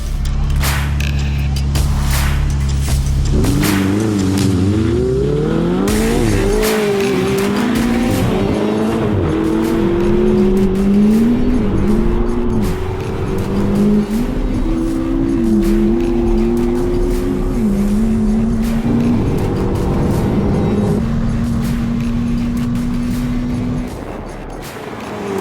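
An Audi R8 V10+ and a McLaren 600LT launch in a drag race, engines roaring loud and close as revs climb through repeated gear changes, with tire noise underneath, steady and dominant throughout.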